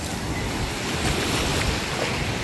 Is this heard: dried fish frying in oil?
no